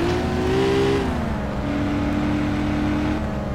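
A tuned car in the video game My Summer Car accelerates hard, its engine droning loudly and steadily as the pitch shifts with a gear change.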